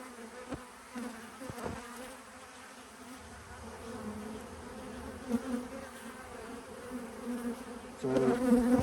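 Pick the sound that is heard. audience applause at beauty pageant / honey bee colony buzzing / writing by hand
honey bee colony buzzing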